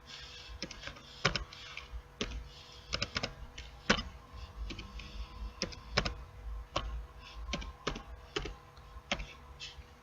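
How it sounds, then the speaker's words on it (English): Someone types a domain name on a computer keyboard, producing irregular bursts of close, crisp key clicks with short pauses between, over faint room hum and no speech. "simply type in the domain."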